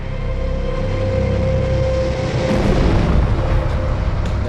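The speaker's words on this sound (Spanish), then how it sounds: "Es una gran explosión" A huge impact explosion on the Moon, rendered as a loud, continuous low rumbling roar with a deeper swell of blast energy midway, sustained and unbroken throughout.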